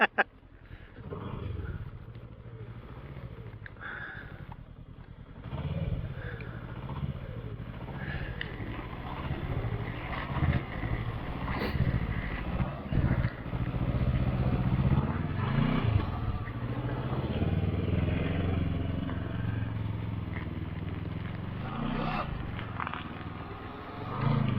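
A Can-Am Ryker 600 stuck in snow revs its engine in a steady, rising drone that carries on for most of the time, with wind buffeting and clatter mixed in and faint voices now and then.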